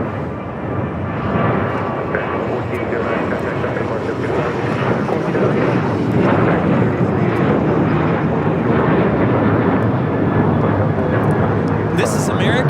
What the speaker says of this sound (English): 1409 taking off to Nashville, Tennessee on a 737-800